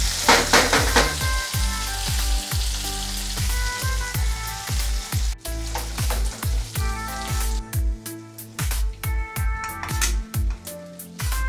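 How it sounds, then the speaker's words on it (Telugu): A tempering of curry leaves and coriander sputters loudly in hot oil before it goes into dal, giving rapid, repeated crackling bursts in an uneven rhythm that run close and strong throughout, with no talk. "పోపు అంతా పప్పులో వేస్తున్నాను"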